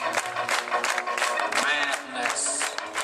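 Audience at a Halloween show at Gran Oasis Resort clapping along in rhythm, a fairly close, busy patter of hands mixed with voices and music.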